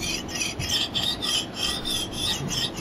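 Steady back-and-forth rasping of an axe edge drawn across a fine 600 grit sharpening stone, close and clear, with regular strokes and no talking.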